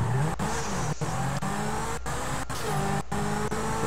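A racing car engine in the video game GTA 5 revs hard in a steady high whine, with brief dips at each gear shift, loud and close, with no voices.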